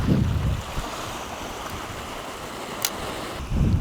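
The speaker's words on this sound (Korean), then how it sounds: "새만금에는 바람과 파도가 세서 어, 낚시하기가 쉽지 않기 때문에" Strong wind buffeting the microphone with sea waves washing against the shore at Seonyudo in the Gogunsan Islands, a constant roar with louder gusts at the start and end.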